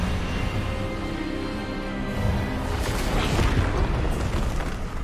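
A magical disarming spell blasts in the Hogwarts Legacy video game, a loud, sustained rumbling burst with crackling texture that swells midway and holds for several seconds.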